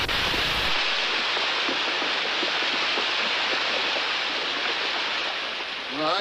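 Water rushes through an opened head gate as a loud, steady roar of broad, hissing flow that fills the whole clip without a break.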